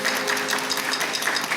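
A church congregation claps during a Sunday service, a brief steady patter of hands at moderate volume with a faint tonal hum behind it.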